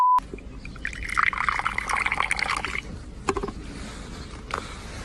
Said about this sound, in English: first they poured the juice